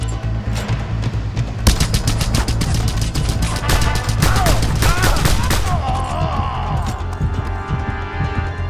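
Rapid handgun shots fire in quick bursts during Just Cause 2 gameplay, loud and sharp, with dense overlapping reports and explosive clatter for the whole stretch.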